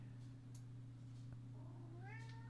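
A house cat gives a single rising meow near the end, fairly faint over a steady electrical hum, with no talking.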